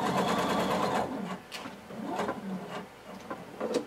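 Sewing machine stitching a blazer seam, a steady rapid mechanical chatter at the start that breaks into short bursts with backstitching pauses between, close and clear.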